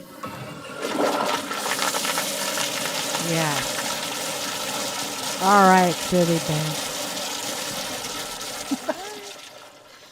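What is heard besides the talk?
toilet flush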